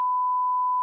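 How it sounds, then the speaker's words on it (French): A censor bleep cutting into a comedy show conversation, one clean, steady electronic tone lasting under a second, loud and alone. "Ça va être un bip."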